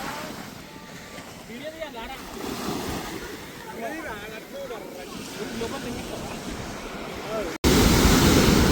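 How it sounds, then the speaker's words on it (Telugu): Large ocean waves roll and wash along a beach in a steady surging roar, with talk running over it and wind buffeting the microphone toward the end. "అలలు అయితే చాలా పెద్దగా వస్తున్నాయి"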